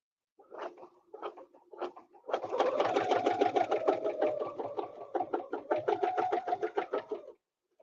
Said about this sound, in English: I'm stitching over my beginning threads.